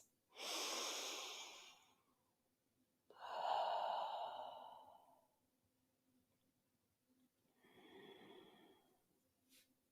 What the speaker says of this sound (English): Take 3 breaths.